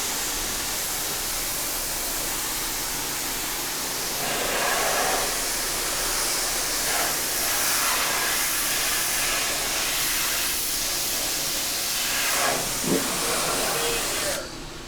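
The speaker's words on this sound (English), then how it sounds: "Go ahead and get on that shop vac." Shop vac running while cleaning grease from a kitchen exhaust hood, a loud continuous broadband roar and hiss that holds steady for the whole stretch, with slight surges and a brief clunk near the end.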